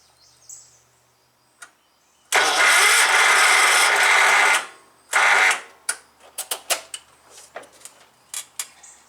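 Cub Cadet 1250 garden tractor engine cranking over with a weak battery, two loud grinding starter bursts that fail to catch, followed by clicks and mechanical clunks nearby.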